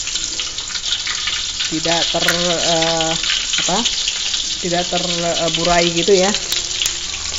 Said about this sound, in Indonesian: terus kita panaskan sedikit minyak dan kita goreng